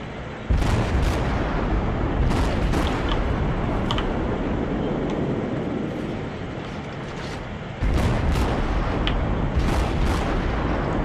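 Naval gunfire in World of Warships rumbles as heavy, continuous booming salvos over a dense roar, with a second loud volley arriving partway through and sharp distant impacts scattered around it.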